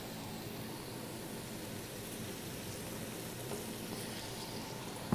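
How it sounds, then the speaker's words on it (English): Water poured into a hot pot to deglaze the bottom, a steady hissing, bubbling rush of liquid that stays even and moderately loud throughout. "And now I'm going to add just enough water"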